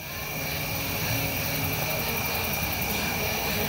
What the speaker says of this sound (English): That's a lot of insects.